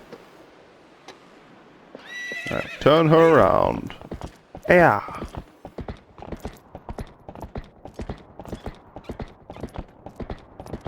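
A horse whinnies loudly in the video game Twilight Princess HD, then hooves clip-clop in a steady trotting rhythm, with a few brief spoken words.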